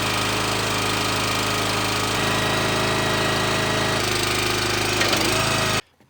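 A Split-Fire log splitter engine runs steadily while warming its oil, a loud, even, droning hum that cuts off abruptly just before the end.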